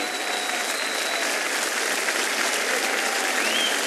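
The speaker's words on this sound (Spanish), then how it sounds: "esta ovación es para vos" Sustained applause and an ovation from a standing audience in a town plaza at the Cosquín folk festival in Argentina, steady and loud throughout with no break.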